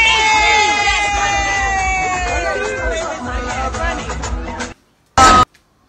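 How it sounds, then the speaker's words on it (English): A lively crowd at a birthday party cheers and shouts with overlapping excited voices, then cuts off abruptly, leaving a short silence and one final loud burst of noise. "And they were cheering. They were cheering at the party."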